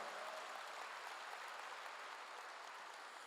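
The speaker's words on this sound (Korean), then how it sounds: "박수로 해주세요" A church congregation claps together, a soft, steady wash of applause heard from a distance, continuous and even throughout with no voices over it.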